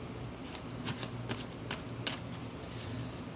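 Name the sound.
shuffling tarot cards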